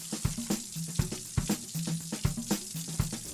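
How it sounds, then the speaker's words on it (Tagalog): Onion and garlic sautéing in a pan, giving a steady sizzle broken by regular clinks and scrapes of a utensil against the pan, close and moderately loud. "Una munang igisa ang sibuyas at bawang."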